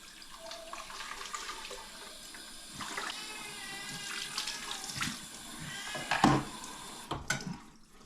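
Water runs from a tap as a vacuum mop pad is rinsed out in a sink, a steady splashing flow with a few louder swishes near the end.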